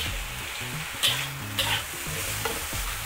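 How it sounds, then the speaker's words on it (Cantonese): Shredded potatoes stir-fried in a red-hot, oiled wok over medium-high heat, a steady loud sizzle broken by several sharp scrapes and tosses of the spatula, with no talking. "咁你可以用中大火一路咁樣炒啦"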